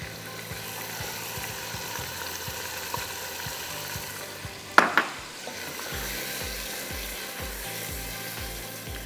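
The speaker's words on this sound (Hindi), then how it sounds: "इसको हम दही के साथ पकने के लिए छोड़ देते हैं।" Chilli powder, turmeric, coriander powder and green chillies cook with yogurt in a pan, giving a steady sizzle with soft stirring scrapes and one brief metallic clatter midway. No one speaks.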